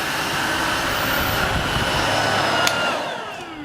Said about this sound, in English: I guess that's probably not the best way to vacuum a desk